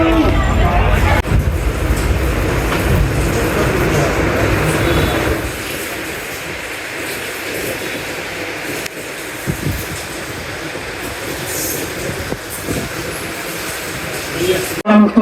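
A train at a railway station rumbles loudly at first, then settles into a quieter steady hum with clanks and crowd babble, while people talk nearby.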